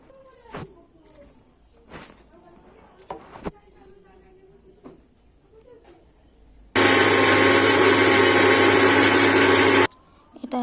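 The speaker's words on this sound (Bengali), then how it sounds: "এই পাতাগুলো বেটে শরবত করব।" A blender grinds dhanvantari leaves for sherbet in a loud, constant whir lasting about three seconds. Quieter clicks and handling knocks come before it, and it cuts off abruptly.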